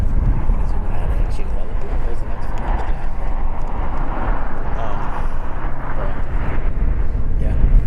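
JetBlue Airbus A320, a 19-year-old jet arriving at LAX, heard as a continuous, fairly loud broadband engine rumble with wind buffeting and voices talking over it.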